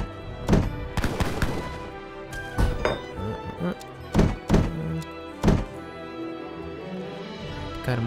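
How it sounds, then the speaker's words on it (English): Mortar fire in the Age of Empires 3 game: a series of sharp, loud booming thumps with clattering impacts, arriving irregularly over the whole stretch, some in quick pairs, others spaced apart. "Got a mortar going."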